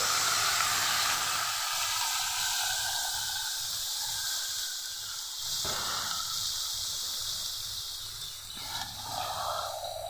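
Raw mutton hitting browned fried onions in a hot pan sets off a loud, steady sizzle and steamy hiss that holds for the whole stretch, with a few small stirring disturbances.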